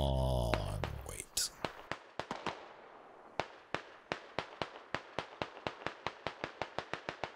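Cover fire in the video game Squad: a steady string of sharp, single gunshots cracks out at a fairly even pace, each one clipped and distinct, with no voices over it.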